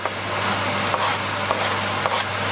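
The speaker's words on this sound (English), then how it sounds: "We're gonna give that a nice stir" A steady sizzle and soft scraping of a utensil as garlic is stirred into sautéed, browned onions in a hot pan, with a few louder scrapes standing out from the constant frying hiss.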